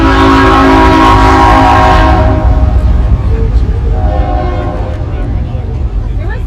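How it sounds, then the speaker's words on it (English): A train rolls loudly past close by, its horn blaring in long sustained blasts over heavy rumbling wheels, then the roar slowly fades as it moves away. "there's a train coming, so I'm going to talk fast."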